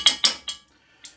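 A metal spoon clinks against a casserole dish holding creamy chicken, herb and vegetable casserole: three quick bright taps, a pause, then one softer tap, close and clear with nothing else around.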